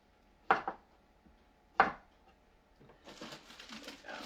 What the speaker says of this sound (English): I'm just going to cut up all these potatoes.